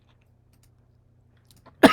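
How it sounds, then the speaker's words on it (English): A single sharp cough from a man who is under the weather breaks a near-silent room at the very end, close and abrupt. "Cough, cough, cough."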